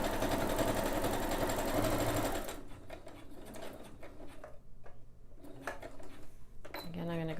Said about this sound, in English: Go back a little bit, a couple stitches just to reinforce that area.